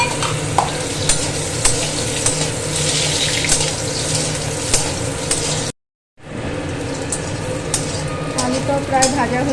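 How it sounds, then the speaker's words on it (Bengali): Potatoes fry in hot oil in a home kitchen, a steady sizzle broken by scraping stirs and occasional clinks, with a brief silent gap midway before the frying resumes. "এরপর আলুগুলো ভেজে নেব"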